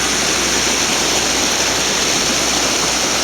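The Weiser River rushes through a diversion dam with removable boards, a loud, unbroken roar of flowing and falling water heard up close.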